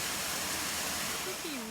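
Darwin Falls, a waterfall in the desert, gives a steady, loud broadband rush of falling water, and a voice begins speaking over it near the end.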